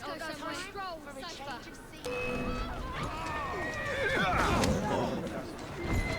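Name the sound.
horse neighing in a video game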